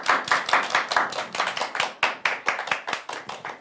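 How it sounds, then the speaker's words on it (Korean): An audience at an astronomy talk on asteroids breaks into applause. It sounds like a small group clapping unevenly at close range for several seconds, with no one speaking. "멀리서 박수 부탁드립니다."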